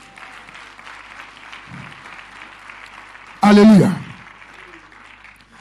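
A church congregation applauds through a pastor's sermon, a soft, steady patter of many hands in a reverberant hall, briefly covered by a loud shouted voice.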